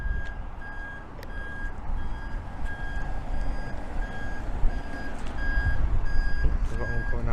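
Vehicle backing out of a building, its reversing alarm beeping in a steady repeated rhythm over a low engine rumble and outdoor background, with people talking nearby.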